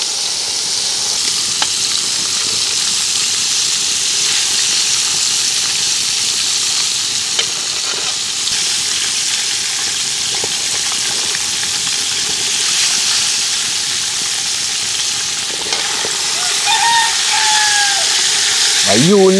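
A batch of french fries bubbles in hot oil with a loud, constant sizzling hiss that fills the whole stretch, close by, with a brief clatter near the end.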